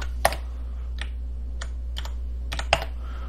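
Scattered clicks of keys being pressed on a computer keyboard, a few light taps with some sharper strikes, over a steady low hum.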